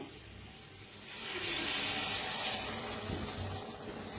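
Water is poured into a pan of cluster beans mixed with chopped coriander. A soft, steady gush of water rises and holds for a couple of seconds, then tapers off. It is heard up close, fairly quietly, with no talking.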